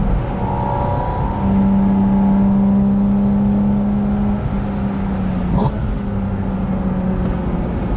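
A Porsche Spyder with a naturally aspirated engine drones loudly from inside the car while driving, a steady engine hum with a sustained tone that eases slightly and shifts near the end, with no talk over it.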